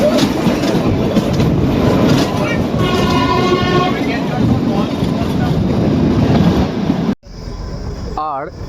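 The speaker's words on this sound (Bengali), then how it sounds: "ঠিক এইভাবেই পথ চলতে চলতে আমাদের ট্রেন এসে পৌঁছলো আমাদের প্রথম স্টেশন" The Kalka–Shimla toy train in Himachal runs along its narrow-gauge tracks with a loud, steady rumble and rattling clatter that is heard close up, then cuts abruptly into a quieter stretch near the end.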